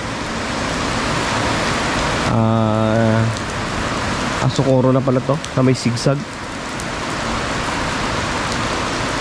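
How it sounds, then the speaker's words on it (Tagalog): Heavy rain pounding on a vehicle on a zigzag road during a night trip from Mindoro: a constant dense hiss of rain throughout, with someone talking over it in the middle. "inabot tayo ng malakas na ulan"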